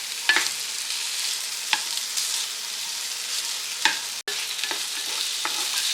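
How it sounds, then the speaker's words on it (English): Leftover meatloaf chunks are stirred in a hot pan with peppers and onions under a constant close sizzle, with a few sharp spatula clicks spread through. "I'm going to stir that around with those peppers and onions."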